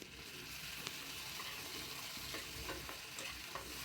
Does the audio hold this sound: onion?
yes